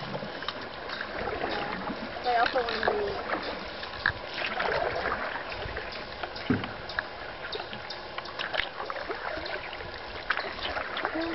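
Paddles splash and dip in water from a small boat on a mild, pleasant day, with steady rippling and wind noise throughout and people talking briefly over it.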